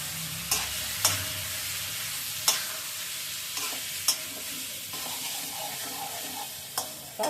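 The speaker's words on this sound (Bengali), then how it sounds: "এবার আসুন ভাজা পেঁয়াজ, তারপরে ডিম সবগুলো একসাথে ছেড়ে দিচ্ছি। একসাথে ছেড়ে দিয়ে এবার একটু নেড়ে ছেড়ে" Fried onion and eggs stirred together in a frying pan: a soft steady sizzle broken by sharp, irregular clinks of a spatula scraping the pan, with no talking.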